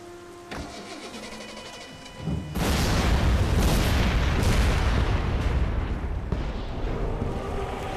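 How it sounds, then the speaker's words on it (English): An explosion in The Saboteur video game starts with engine hum and a few clicks, then a deep roaring blast swells and lingers as a long loud rumble that slowly fades. "That was a huge explosion."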